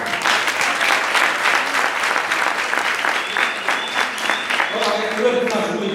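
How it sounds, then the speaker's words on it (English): Audience applause at a social development gathering, a dense, sustained wash of many hands clapping at moderate loudness throughout, with no speech over it. "A round of applause to all."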